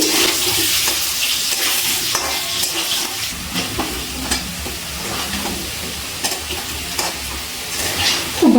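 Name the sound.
potatoes deep frying in oil on high flame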